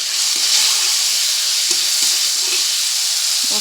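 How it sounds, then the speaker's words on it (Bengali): Food frying with turmeric and salt while being stirred, a loud, dense, continuous hiss of sizzling with faint scraping strokes from the spoon, close by and without voices. "আর এটা আপাতত আমি হলুদ লবণ দিয়ে কষাচ্ছি"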